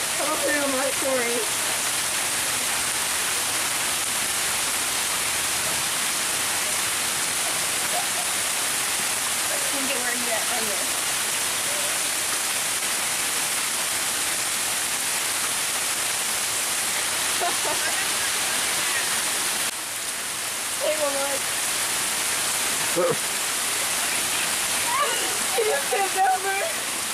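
Fast-flowing cold water rushes through a ditch in a continuous broadband roar, with people's voices faintly breaking through at times.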